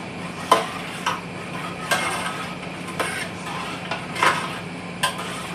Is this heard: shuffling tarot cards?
no